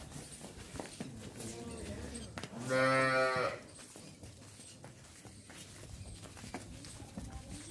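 A black Jersey heifer, tall and long-bodied, lets out a single clear moo of about a second amid farmyard background and someone talking.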